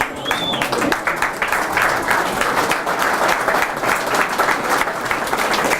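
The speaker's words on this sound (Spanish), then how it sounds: "si ese aplauso es para ellos, está bien" A church congregation applauds at a service, a dense and loud wash of many hands clapping continuously and up close throughout, with a brief faint whistle near the start.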